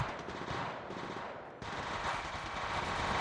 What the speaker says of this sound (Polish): Tutaj kurczę są jakieś mocne strzały